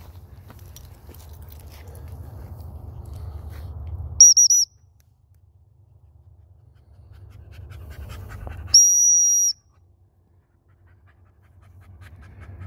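Two short, sharp, high dog training whistle blasts during French Brittany puppy whistle training, several seconds apart, with a dog panting steadily in between.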